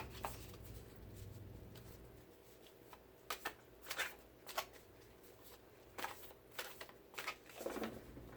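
Soft, quick riffles and taps of tarot cards being shuffled come in short bursts, close and quiet, over a faint background hum.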